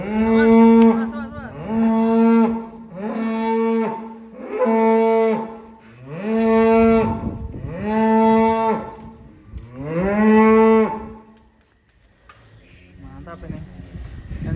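Cattle at a cattle market give six long, loud, close moos in a row, each drawn out and separated by short pauses, followed by quieter background noise.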